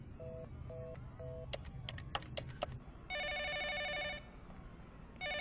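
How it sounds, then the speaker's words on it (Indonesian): A telephone bell rings in short repeated bursts alongside a few clicks, then a sustained electronic ringtone trills loudly for about a second and returns near the end, all indoors in a comedy film scene. "Ada telepon."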